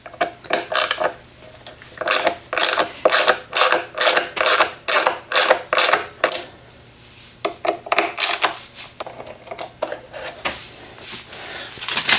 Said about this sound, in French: On défait les 2 petites vis ici.